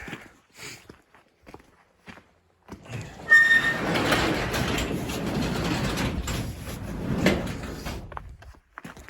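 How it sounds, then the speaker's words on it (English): A garage door being pulled shut on a cold day, with a few footsteps and knocks before a long rolling, rattling slide that sounds close and fairly loud, then fades out. "Too cold, but I gotta shut my garage door"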